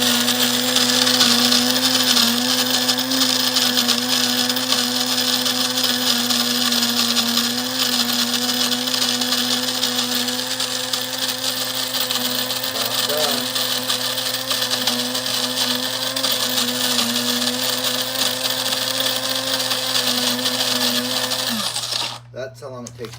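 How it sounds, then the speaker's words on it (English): Cuisinart automatic burr mill grinds coffee on its finest setting, a steady loud whirring drone that runs continuously for about twenty seconds before cutting off abruptly near the end. "I'll turn this thing right here for all the way to fine and hit the button"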